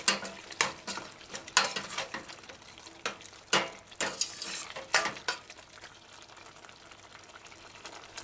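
A spoon scrapes and stirs through a thick tomato and asparagus stew in a pot, rhythmic close strokes with a soft bubbling underneath, no talking.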